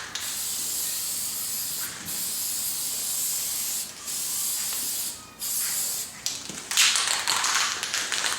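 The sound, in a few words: spray paint light coat on car interior trim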